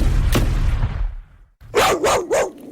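A dog gives three quick, loud barks close by, following a rumbling stretch of noise and a short pause.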